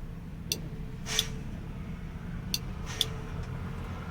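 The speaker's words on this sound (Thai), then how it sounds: "มันจะได้ยินเสียงรีเลย์ทำงานนะครับ" An Isuzu Deca truck's relay clicks as the brake is applied with the ignition on: four or five faint, sharp clicks spaced irregularly over a low steady hum.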